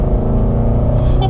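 A 2020 Range Rover Velar SV Autobiography under throttle while driving out of a turn, its engine giving a loud, steady, close-up drone that holds without pause.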